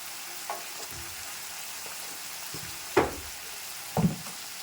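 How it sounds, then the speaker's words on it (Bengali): Ground spices with salt and turmeric fry in a pan for a cumin-paste hilsa curry, giving a steady soft sizzle broken by two sharper stirring scrapes near the end, with no voices. "আমার মশলাটা ভালো করে ভাজা হয়ে গেছে"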